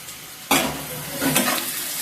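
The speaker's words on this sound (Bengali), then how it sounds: "এবারে সব উপকরণগুলোকে ভালো মতো ভেজে নেব" Chopped onion, garlic and chili fry in a pan over medium-low heat, a loud sizzle bursting in after a quiet start as the garlic and chili go in, then a steady crackle with some stirring.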